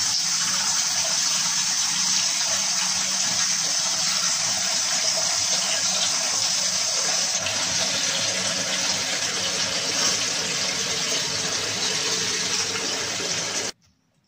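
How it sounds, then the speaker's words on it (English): Warm water runs hard from a bathroom tap into a sink, a steady, loud, close rushing gush that continues without pause for about fourteen seconds and then cuts off abruptly. "So I just filled the sink up with some warm water."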